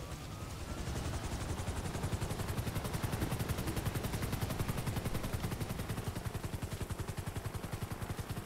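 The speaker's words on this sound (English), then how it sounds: "Don't walk beside a helicopter rotor." A helicopter's spinning rotor in a role-play video game chops in a fast, steady rhythm, loud and close, holding constant with no talk over it.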